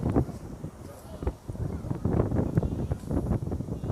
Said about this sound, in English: I have a mic in today to try and get rid of the wind